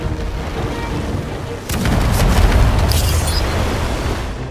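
Artillery firing in the strategy video game Humankind, a loud rumbling boom that swells out of a steady dense background of battle noise and then rolls on, heavy and low.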